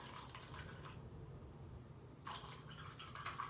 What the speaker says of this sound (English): But if I pour some water into the cup,